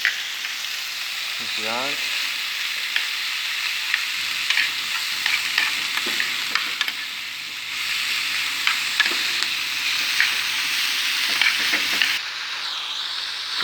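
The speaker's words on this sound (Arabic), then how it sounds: "كنخليوه يتقلى واحد شويه، كنبقاو كنحركوه" Onions fry and get stirred in a pan for a chicken tajine with raisins, giving a steady close sizzle broken by occasional scraping strokes, with a brief spoken word.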